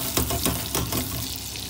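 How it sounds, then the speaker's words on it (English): Nuts toasting in butter with saffron in a pan, making a soft, continuous sizzle with a few scraping stirs, close by with no talk. "we'll just toast the nut and then pour it into the rice"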